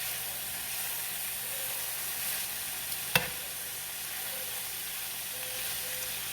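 Sliced ribeye steak sautéing in a pan gives a steady, fairly quiet hissing sizzle, broken once midway by a single sharp click.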